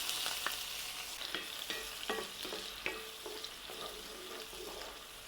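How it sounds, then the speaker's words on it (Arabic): Diced onion frying in oil and butter in a hot pan, a steady close sizzle broken by a series of sharp stirring scrapes and taps at an uneven rhythm. "طاسه سخنه، زيت، زبده، بصله متقطعه مكعبات صغيره"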